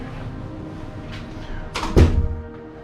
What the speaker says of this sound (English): Room 308. Open the door.